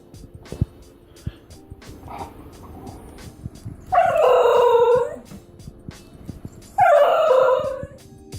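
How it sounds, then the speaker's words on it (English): A Basenji dog gives two drawn-out, warbling yodel-like howls about three seconds apart, loud and close, over a quiet background of light ticks. "Instead of barking, the Basenji makes characteristic yodel-like sounds"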